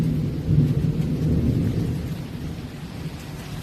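A thunderstorm with rain, a low rolling rumble of thunder swelling early and slowly fading under a continuous hiss of rainfall, fairly loud, with no talking.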